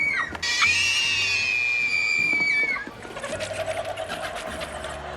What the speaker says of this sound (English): A few kids are enjoying some frights and screams.